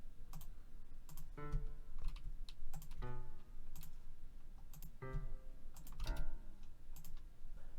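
Computer keyboard keystrokes and mouse clicks while entering articulations in MuseScore notation software: short clustered bursts of typing spaced across the stretch, close and moderately loud over a faint steady background, with no talking.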